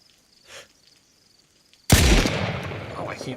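Gunfire in DayZ on the Deer Isle map: a single loud, close shot cracks out after a faint earlier pop, then rumbles and echoes into a broad, decaying tail.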